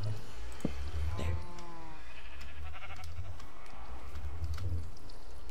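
Sheep in a video game bleat in a couple of short, wavering calls amid a crowded farm of sheep and cows, over a low background rumble.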